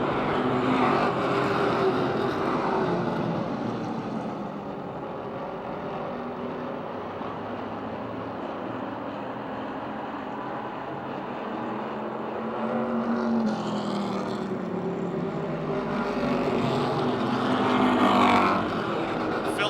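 Napa Auto Parts Street Stock race cars roar around an oval at Motordrome Speedway during a 2010 feature event, a continuous loud engine drone that swells as cars pass, with faint crowd and announcer sound underneath.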